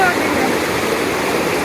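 Rushing water at Murree, a steady broadband roar like a stream or small waterfall close by, continuous throughout with no break.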